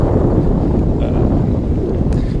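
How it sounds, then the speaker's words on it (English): Steady, heavy wind buffeting a microphone, a loud constant low rumble throughout with no clear voices. "It's a little bit windy today, so hopefully my voice comes through."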